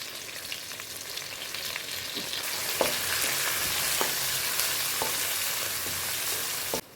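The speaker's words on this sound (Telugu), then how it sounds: "కరివేపాకు, కట్ చేసి పెట్టుకున్న పచ్చిమిర్చి, ఉల్లిపాయ వేసి వేపుకోవాలి" Curry leaves, green chillies and onion hit hot oil in a pan, breaking into a loud, steady sizzle with occasional scrapes of stirring until it abruptly stops.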